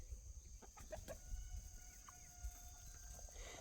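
A rooster clucks softly a few times at close range, with faint birdsong and a low background hum.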